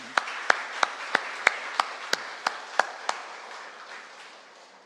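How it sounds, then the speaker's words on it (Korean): About ten single claps ring out one by one at a steady pace in a church as a small congregation offers blessing applause for visiting missionaries serving in Lebanon, moderately close, and the sound fades away afterward. "우리 축복의 박수로."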